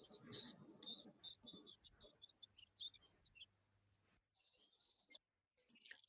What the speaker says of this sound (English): I have a pretty vocal song sparrow up here